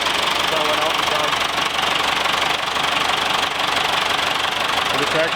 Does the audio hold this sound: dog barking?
no